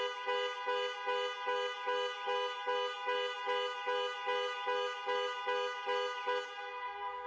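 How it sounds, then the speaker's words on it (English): A Range Rover Sport (2021 model year) panic alarm horn honks in a fast, regular repeating pattern, loud and steady for several seconds before cutting off. "the horn will sound and the hazard lights will flash."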